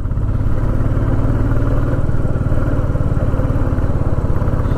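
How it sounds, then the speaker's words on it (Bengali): A motorbike ridden slowly along a mountain road near Pokhara, Nepal, its engine a loud, steady low-pitched chugging drone close by, with no voices. "পাহাড়ি রাস্তায় আমরা আস্তে আস্তে বাইক চালাই"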